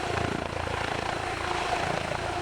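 A Comanche military helicopter flies with a loud, steady rotor thump and engine roar, continuous and close throughout.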